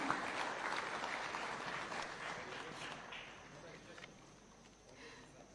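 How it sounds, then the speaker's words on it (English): Applause from an audience at a Kenyan award ceremony at State House, fairly distant and soft, a steady wash of clapping that gradually fades toward the end with faint background voices. "A round of applause, ladies and gentlemen."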